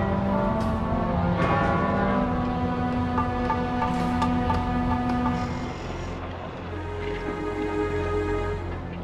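A large church bell rings with steady, sustained tolling that fills the whole stretch, its long humming overtones lingering between strikes at a close, full level, with no voices present.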